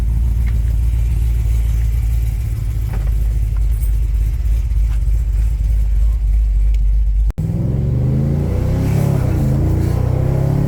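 A cammed LS1 car engine cruising on a street tune gives a deep, constant rumble with a throbbing lope. It cuts off abruptly about two-thirds through, then a rougher, choppier engine note takes over.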